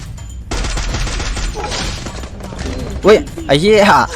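Bursts of gunfire in the battle royale game Free Fire, a rapid rattling volley followed by sharper single shots, close and loud, with excited voices talking over it.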